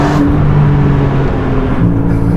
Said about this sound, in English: Turn the dial, the exhaust note just turning loud ever so slightly